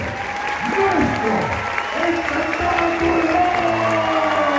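A circus audience applauds the departing cast of Circo del Miedo 2021 at the Real Center in Guadalajara: dense, sustained clapping from a large crowd fills the whole stretch at steady loudness, with some cheering and voices mixed in.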